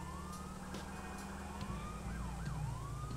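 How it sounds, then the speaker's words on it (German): Police motorcycle siren in GTA IV, a rising and falling electronic wail repeating over a low engine drone, close and continuous. "Jetzt kann ich nur diese eine hässliche Sirene da benutzen."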